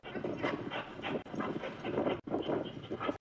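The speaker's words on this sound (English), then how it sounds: "Look at these dogs. They still want some more." Dogs fighting, a fast run of close growls, snarls and whimpers in rapid bursts, broken by two brief gaps.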